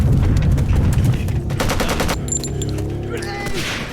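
Rapid video-game gunfire rattles off in a loud close burst as a crate is shot, then trails into fainter reverberating echoes and some metallic clinks as it dies away.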